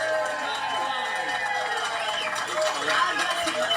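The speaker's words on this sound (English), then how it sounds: "Ladies and gentlemen, round of applause for Tyler." Steady applause and crowd noise from a TV studio audience, continuous and moderately loud throughout, with a host's voice speaking over it.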